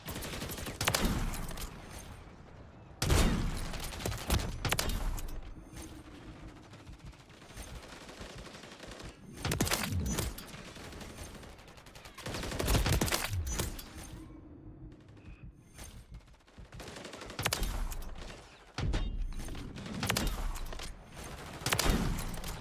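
Sniper rifle shots in a video game, about eight sharp loud cracks spaced a few seconds apart, each followed by a short mechanical rattle, close and without talk.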